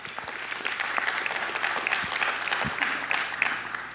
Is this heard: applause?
yes